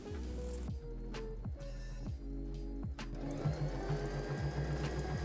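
A sewing machine stitches seams on stretchy activewear in short motorized bursts with brief pauses between them, then one longer steady run of rapid needle stitching, close and clear with no talk.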